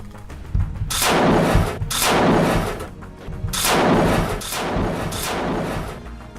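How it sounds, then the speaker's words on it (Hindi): An automatic machine gun fires at a distant watchtower during a war. Several loud, sustained bursts of heavy fire, each lasting about a second, are separated by brief gaps, with no voices. "एक के बाद एक ऑटोमेटिक मशीन गन से कई हमले कर देता है।"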